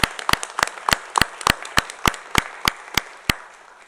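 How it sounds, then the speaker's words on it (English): A round of applause for Denton County staff members at a county commissioners court meeting, heard as a steady run of sharp, evenly spaced claps, fairly close and clear, with no talking over it. "I'd like to give all staff members of Denton County a round of applause"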